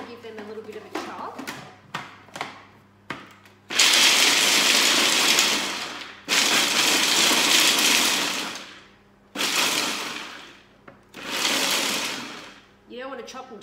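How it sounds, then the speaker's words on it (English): Food processor chopping raw almonds in loud roaring bursts, four long pulses of harsh whirring separated by brief pauses, close and dominant, with speech heard only before the first burst. "I'm just gonna give them a little bit of a chop."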